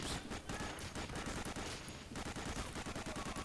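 Rapid automatic gunfire while shooting enemies in Medal of Honor: Allied Assault, dense rhythmic bursts of machine-gun fire, quiet and slightly distant, continuing almost without pause.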